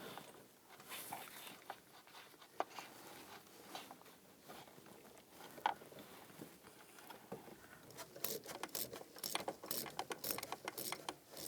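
A ratchet turns the bolts on an expansion valve behind the dash of a 2010–2017 Chevrolet Equinox during a door actuator replacement. The close, faint clicking comes in short bursts that grow quicker toward the end.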